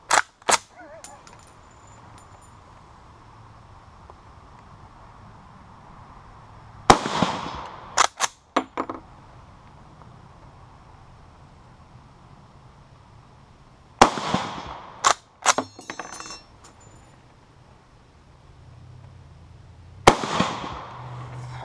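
Loud single rifle shots from an Austrian Steyr M95 infantry long rifle, four widely spaced cracks each followed by a short echoing tail, with quiet background between them.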